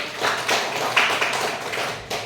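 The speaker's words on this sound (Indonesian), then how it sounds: "Oke, tepuk tangan dulu buat kelompok 1." Short burst of classroom applause for a presenting student group during a microteaching session, a dense patter of hand claps from a small group, close and steady, with a brief dip near the end.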